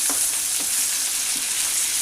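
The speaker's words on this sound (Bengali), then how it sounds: "এরকম করে আমরা সবগুলো ভেজে তুলে নেব" Chicken pieces for butter chicken fry steadily in hot oil, a dense, continuous sizzle with faint crackles throughout and no talking.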